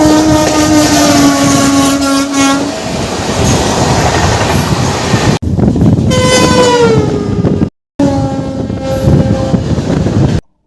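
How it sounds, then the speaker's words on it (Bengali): A local train on the Howrah to Digha line rolls through Tigiyapara railway station, loud and close, with a continuous rumble, clattering wheels and sustained horn blasts that repeat across the clip. "এই মুহূর্তে আমি রয়েছি তিগিয়াপাড়া রেলওয়ে স্টেশনে।"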